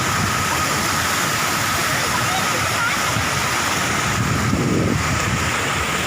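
Steady rushing water flows continuously from a lake, a dense broadband wash like water spilling over a weir, with faint voices underneath.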